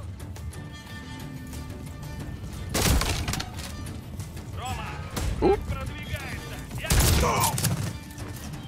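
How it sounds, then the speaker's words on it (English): Enemy gunfire in a video game comes as several sharp bursts spread across the stretch, each a loud crack or short volley, between which a person talks and game voices speak. "There's enemy fire."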